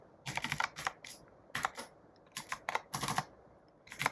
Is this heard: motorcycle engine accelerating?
no